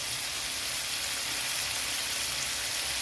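Steady, close hissing sizzle of salt, turmeric, cumin and Kashmiri chilli powder frying in oil for a fish curry, continuous and even without pauses.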